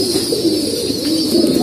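Pigeons cooing in a loft where about a hundred pairs are kept, low soft throaty coos repeating close by over a constant hiss of background noise.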